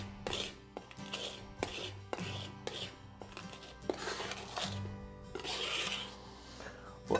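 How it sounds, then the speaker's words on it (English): A knife's flat blade scrapes and presses garlic with coarse salt crystals on a cutting board into a smooth paste, a steady series of close rhythmic scrapes and taps. "The sharp edges of the coarse salt crystals are going to help quickly shred this down into a nice smooth paste using the flat edge of my knife"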